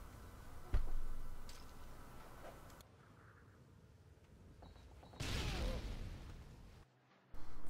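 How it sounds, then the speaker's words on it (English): A frag grenade in Modern Warfare 3: a click and thump as it is thrown, a quieter pause, then a loud blast with a rushing tail, cut short before a further burst of game noise. "cook the nade for a couple seconds, throw the nade"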